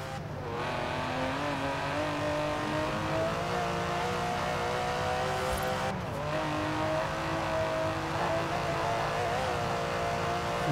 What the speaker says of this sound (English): This car does sound pretty good.